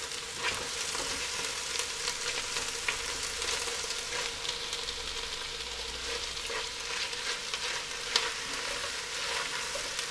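Chopped vegetables sweating in a pan for chicken paprikash, a steady close sizzle with soft crackles and occasional stirring scrapes that runs continuously with no talk.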